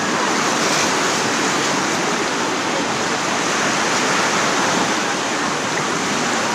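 Ocean surf breaking on Clearwater Beach forms a steady, loud, unbroken roar of rushing water with no pauses and no voices.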